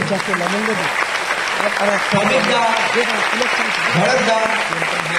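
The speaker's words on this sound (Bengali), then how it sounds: "তাদের জন্য একবার চাইবো জোরদার তালি" Audience applause fills a corporate recognition program hall, a dense, steady clatter of clapping that lasts the whole stretch, with voices talking over it.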